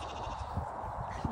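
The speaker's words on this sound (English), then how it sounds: "Lucky goats." Goats bleat in a farm field with trees and hedges, a few short, close calls spread across a brief moment over soft outdoor background.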